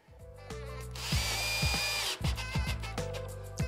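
A power screwdriver drives screws into a plasterboard ceiling, with several short rising whirs of the motor separated by brief pauses, close and loud, no talking.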